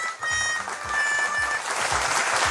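Audience applause at a Kurdish television show, a full, continuous patter of clapping that swells slightly toward the end, with no speech.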